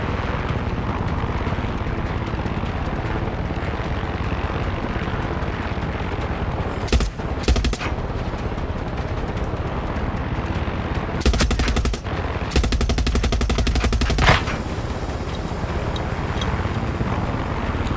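Fire from a helicopter's machine gun in the video game Far Cry 6 rattles in several bursts over a continuous rotor and wind roar, loud and close with no voices.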